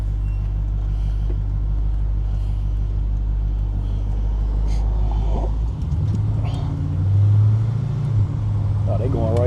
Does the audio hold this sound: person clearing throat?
no